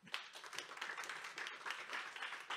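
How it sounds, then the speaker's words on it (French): Audience applause for a speaker at a talk on data in strategic decision-making, a soft, fairly distant wash of many hands clapping for a couple of seconds. "Merci Zaïd, on peut vous applaudir."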